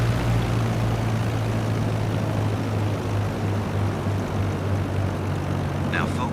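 A propeller airplane engine drones at reduced idle throttle in the cockpit, a steady, close, loud low hum with pulsing tones and no pauses.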